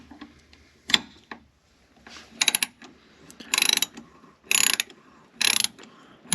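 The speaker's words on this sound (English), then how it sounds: "Let me get my ratchet." A hand ratchet turns a thread tap in a spark plug hole on an SVT Cobra engine. Close, loud clicking bursts of pawl ratcheting repeat in a steady back-and-forth rhythm with short pauses between strokes.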